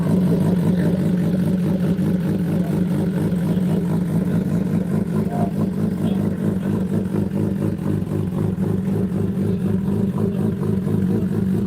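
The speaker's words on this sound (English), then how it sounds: "that's the way a car should sound" A Jaguar car's engine runs loud and close in a steady, throaty rumble that holds an even pitch throughout with no clear revs and no talk over it.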